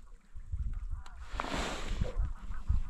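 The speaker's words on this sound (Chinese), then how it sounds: "看来不是鸭子，是2只大雁" Two greylag geese call on a remote Arctic sea island, giving several honking cries in uneven bursts, moderately close, over a low background of wind and water.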